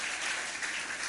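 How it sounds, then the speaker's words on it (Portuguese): Congregation applauding during a church service, a steady, dense wash of clapping throughout with no talk over it. "Agora dá uma salva de palmas para esses homens e mulheres."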